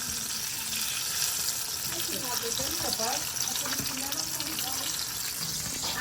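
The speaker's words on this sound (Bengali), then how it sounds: "বেগুনি ভাজা হচ্ছে" Begun bhaja, eggplant fritters, frying in oil give a steady, dense hiss throughout, with voices murmuring faintly underneath.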